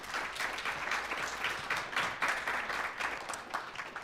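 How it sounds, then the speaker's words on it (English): An audience at a mobility conference panel gives the panelists a round of applause, dense sustained clapping from a large crowd, loud and even with no voices over it. "Can we get a brief round of applause for our panelists before we get into Q&A?"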